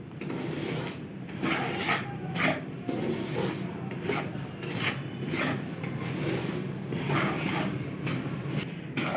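Semolina being stirred and dry-roasted in a pan on the stove, a steady scraping, rasping rub of spoon against grains and metal that continues close and fairly loud throughout with no talk.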